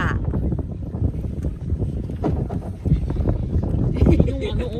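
A boat sets off from Alibijaban Beach in San Andres, Quezon, in blustery wind. Rumbling wind buffets the microphone continuously while people talk over it.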